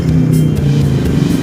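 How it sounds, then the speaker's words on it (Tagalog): Motorized tricycle passing nearby, a loud close engine rumble with a steady low hum that swells and shifts over a brief moment. "Tricycle na malapit na naman."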